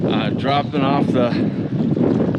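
Outdoor wind buffets a microphone in a continuous low rumble, loud and close, while someone talks over it.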